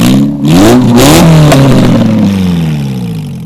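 A worn 2016 derby car engine with failing valve seals revs loud and close. It climbs to a high roar, holds, then eases back down as it settles toward idle.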